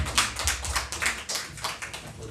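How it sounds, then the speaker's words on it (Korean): A church congregation claps during a Sunday worship service, giving a sustained stretch of fairly quiet, dense, overlapping claps with no one speaking over it. "하나님께 감사의 박수 올려드리겠습니다."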